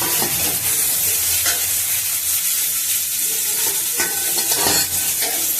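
Okra is dry-sautéed without oil in a hot kadai, with a constant hissing sizzle and occasional scraping stirs. It sounds close and steady throughout.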